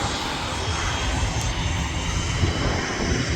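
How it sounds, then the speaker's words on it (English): An Emerald Air Aer Lingus airliner at Manchester Airport gives off a steady, loud jet engine roar with a broad rumbling wash of sound, continuous throughout and without talk. "Have an Emerald Air Aer Lingus doing the short hopping routes over to Dublin."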